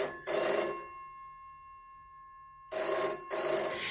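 A telephone bell rings in two loud bursts separated by a long quiet gap, each burst a rapid ringing trill, alone with no voices.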